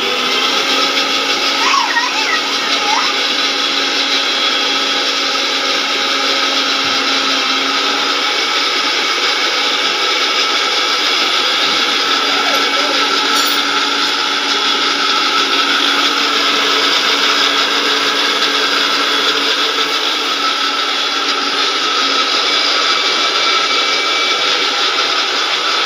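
A mixer grinder whirring through ginger garlic paste in a home kitchen, a loud steady motor drone held for a long stretch, unbroken and close.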